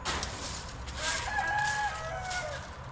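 Backyard chickens cluck near a rabbit cage while a rooster crows in the middle, a few drawn-out calls rising over scattered clucks at moderate distance.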